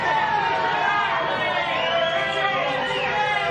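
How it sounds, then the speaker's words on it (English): Home football crowd at a Serie A Women's match between Milan Women and Genoa reacting badly to a referee call: a steady, loud roar of crowd noise with whistles or jeers rising through it, continuous throughout. "as you can hear, not going over well with this home crowd"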